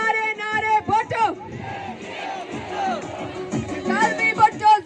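A crowd at a Pakistan Peoples Party election rally in Tando Muhammad Khan chants political slogans in rhythmic bursts, loud massed voices rising and falling over a few seconds.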